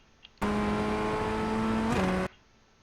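A Ray FF1600 Formula Ford engine roars loud and close in an iRacing lap of Snetterton, holding a steady high drone for about two seconds before the pitch dips as the throttle eases, then cuts off abruptly.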